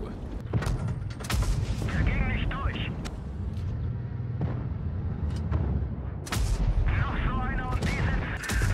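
Tank cannon fire and battle explosions in the World of Tanks Blitz video game, several sharp loud booms and blasts spread through the clip over a steady engine rumble, with someone talking over it.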